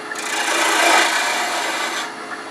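A half-inch spindle gouge cuts a wooden screwdriver handle spinning on a lathe, giving a steady, close, rasping shave that swells briefly and then eases off, with no talking.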